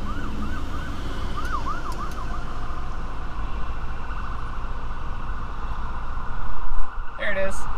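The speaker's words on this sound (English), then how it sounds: "I hear siren." A faint emergency-vehicle siren wails in the distance over steady road rumble from inside a car driving in Tulsa, its wavering tone clearest early on before fading into traffic noise.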